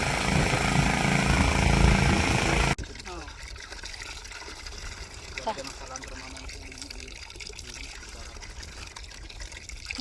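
Water from a newly installed faucet at a simple house build, loud and gushing at first, then dropping abruptly to a quieter trickle and splash while people talk nearby.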